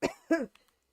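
A person coughs twice in quick succession, close and fairly loud, the second cough heavier and throatier, followed by a couple of faint clicks and quiet.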